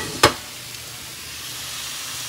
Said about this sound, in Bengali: এখানে বিট ভাজা করছি